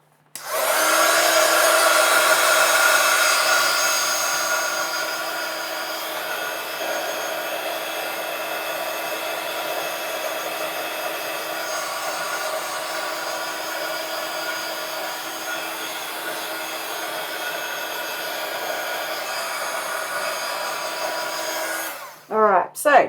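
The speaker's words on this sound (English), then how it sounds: "just going to dry that stamp quick" A hair dryer runs continuously to dry ink from a stamp on a steampunk journal page, a steady close whooshing blast that swells at first, holds evenly, then cuts off with a click at the end.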